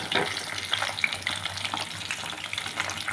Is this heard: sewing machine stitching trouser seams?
no